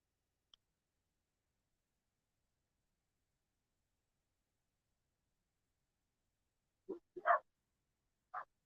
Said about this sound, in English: See my dog's voice.